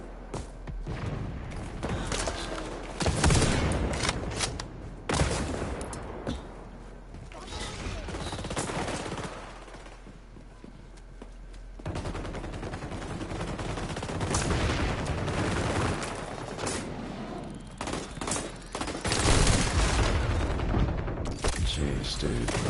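Automatic weapon fire in the shooter game xDefiant, with rapid bursts of loud shots broken by short pauses and interspersed with thuds and mechanical clicks throughout.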